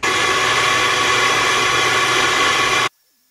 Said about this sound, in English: I'll get the shop vac in there for probably 10 minutes. I'll just suck it all out.